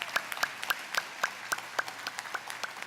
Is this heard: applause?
yes